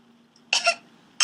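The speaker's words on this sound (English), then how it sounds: "Adorable cough," Small cartoon pony Sweetie Belle giving two short, light coughs, close and clear, with a brief quiet gap between them.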